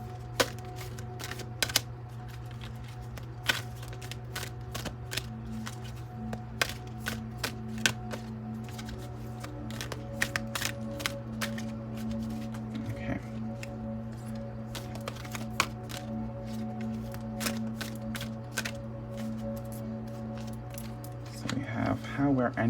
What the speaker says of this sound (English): Alright, so let's shuffle a little bit.